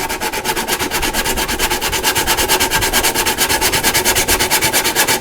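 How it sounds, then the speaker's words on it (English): A hand file rasps across a repair patch in steady, rapid back-and-forth strokes, even and close, with no talking. "And then we'll take the file"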